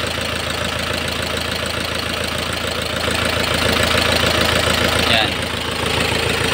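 A Mitsubishi engine runs steadily with its turbo spinning, a dense, continuous mid-pitched drone with a slight knocking texture, close and loud throughout, while someone says a brief word.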